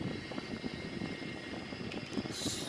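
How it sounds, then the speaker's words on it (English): A Sukhoi-30M2 jet in a flight simulator game rolls out after landing, its engine giving a steady, moderately loud whine and rumble throughout, with no voices. "So this is for the Sukhoi 30M2. We just landed, very nice landing, very smooth actually."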